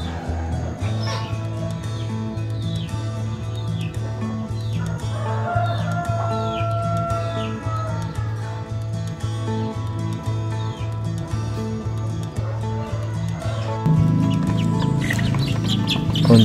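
A brooding brown Bangkok hen, sitting on eggs for about five days, gives repeated squawking clucks when disturbed, set against a busy poultry yard with other fowl calling and a steady low hum. The calls sound close and moderately loud.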